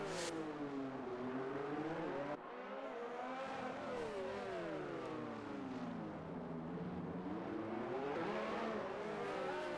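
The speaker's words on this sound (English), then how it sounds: "Just listening to these engines going around a course this slowly" Formula race car engines in a racing video game at the Monaco street circuit, a loud continuous whine that rises and falls through gear changes, with a brief dip before climbing again.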